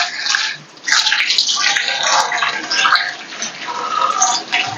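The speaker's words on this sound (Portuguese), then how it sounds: "Eu tô colocando água quente para acelerar o processo" Hot water streams steadily into a cooking pot in a home kitchen, a close, continuous splashing pour with brief pauses and changes in flow.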